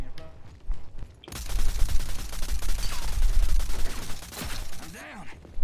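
Dense volleys of game gunfire crackle through a close-quarters video game shootout, rapid shots stacking into a loud sustained barrage after a quieter opening, with voices talking over the action.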